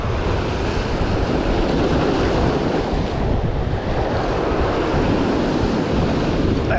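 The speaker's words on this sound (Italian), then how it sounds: "Oggi non è che sia tranquillo da farsi il bagno, però diciamo che è abbastanza pacato oggi l'oceano." Ocean surf rolls onto the shore at Fuerteventura on a fairly calm day, a continuous loud roar of breaking waves mixed with wind buffeting the microphone, no voices.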